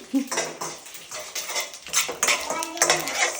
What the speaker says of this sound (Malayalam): ഇനി നന്നായിട്ട് ഇളക്കുക